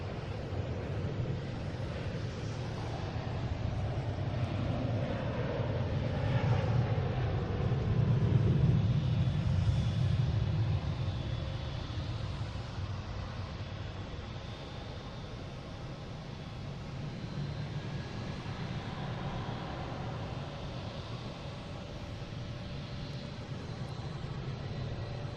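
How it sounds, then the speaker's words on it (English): A Lufthansa Airbus A350-900 airliner taxis out at Boston Logan airport, its engines a steady broadband roar that swells toward the middle and then holds at a moderate, distant level, with no voices. "Oh, the A350-900 Lufthansa is coming out here."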